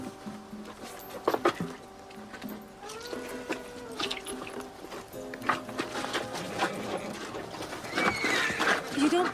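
Horse pulling a wagon, with hoof clip-clops and a neighing whinny in the middle, heard close and fairly loud alongside voices and outdoor bustle.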